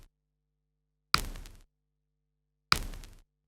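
A plain snare drum sample from Autoharp struck twice, each hit a sharp crack with a short noisy decay, separated by about one and a half seconds of silence.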